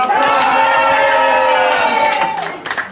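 A party crowd at a housewarming cheers loudly, with sustained whooping voices and clapping that hold steady for a couple of seconds, then fade and break up near the end.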